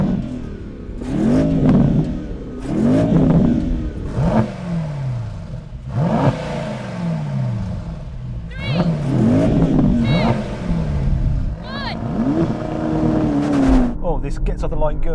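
A Porsche Panamera Turismo and a Mercedes-AMG E63 S launch in a drag race. Engines rev through a series of rising gear-change sweeps, loud and close, with excited talk running over the roar.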